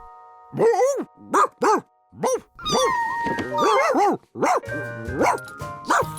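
Hundley the dog from a Curious George cartoon barks in a run of sharp, bright yips and woofs, some separated by brief pauses, loud and close over light cartoon music.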